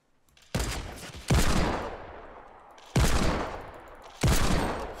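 Desert Eagle pistol firing in Fortnite: four loud, sharp shots spaced unevenly over a few seconds, each with a long booming tail that fades before the next.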